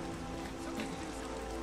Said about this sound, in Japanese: あいにくの雨です。